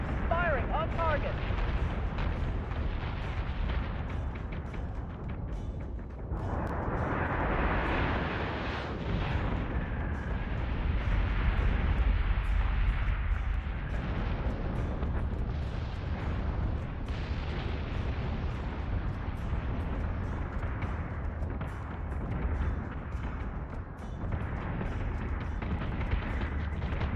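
Artillery firing on a target in a video game match, a steady dense barrage of booms and explosions rumbling continuously for nearly half a minute, with speech mixed in.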